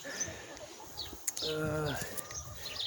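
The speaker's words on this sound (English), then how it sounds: "You hear the birds hang out in this tree" Quiet outdoor ambience with a few short bird chirps and a soft cooing call, faint and scattered.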